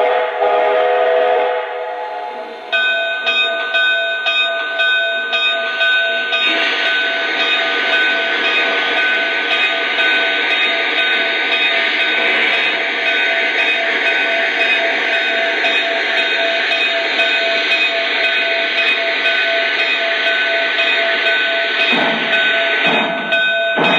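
A Lionel 2-10-4 Texas model steam locomotive runs with a steady, close electric whine and a sustained whistle-like tone that holds for most of the run before briefly dipping near the end.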